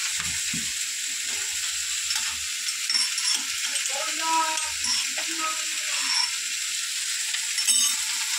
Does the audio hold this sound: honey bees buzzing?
no